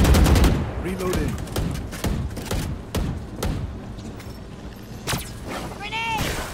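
Gunfire in the tactical shooter Valorant: loud rapid bursts of shots and thudding impacts, dense at first then spaced out, with game sound effects and a player talking over the action.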